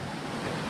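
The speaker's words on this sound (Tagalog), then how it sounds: "Lakas ng alon." Strong waves surging and washing near a canal, a steady broadband roar of surf with wind buffeting the microphone throughout the brief moment.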